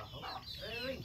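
A chicken in a rural provincial yard gives a quick, close burst of clucking over faint background noise, lasting about a second.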